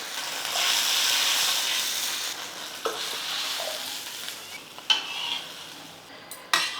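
A steady, loud sizzling hiss of water poured into a hot pan, easing slightly over time, with a few sharp clinks near the end.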